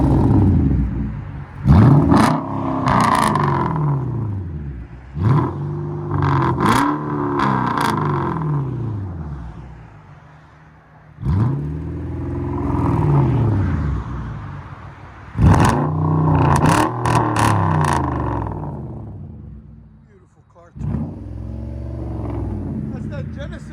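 A Hyundai Genesis 5.0L V8 with a straight-piped exhaust revs hard in repeated bursts, each rising sharply and falling back to a burbling idle, loud and close, with people talking between the revs.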